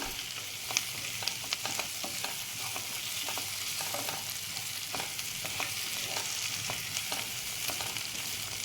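Steady crackling sizzle of onions frying in oil for onion chutney, with faint scraping stirs now and then, close and continuous, no voices.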